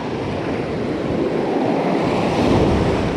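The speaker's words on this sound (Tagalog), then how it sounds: "Ang laki ng alon." Steady roar of surf with waves crashing continuously nearby against a rocky shore, mixed with wind buffeting the microphone, loud and unbroken throughout.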